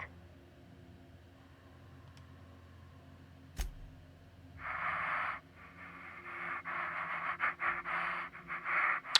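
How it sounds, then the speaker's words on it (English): A character's breathing in The Outer Worlds video game, raspy panting and wheezing bursts close to the listener, rising and falling irregularly over a quiet background hum. "I can hear you breathing"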